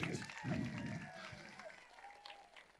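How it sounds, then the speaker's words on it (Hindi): An audience at the Lokrang 2020 cultural festival in Madhya Pradesh claps for a group of children after their performance, a fairly faint, rough wash of clapping with a tonal voice or music line drifting through it. "इनके लिए एक बार जोरदार तालियां बजाइए"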